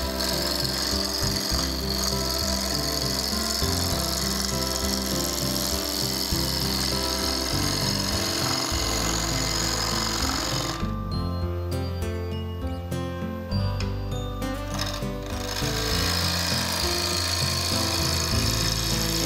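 A wood lathe turns a box with a threaded lid while a tool cuts shavings, giving a steady loud rasping, scraping whir with a deep motor hum underneath and a brief smoother stretch midway.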